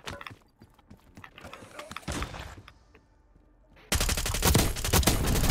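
Video game gunfire in a dense burst of rapid shots, quieter pops at first, then a sustained loud volley of overlapping reports filling the second half.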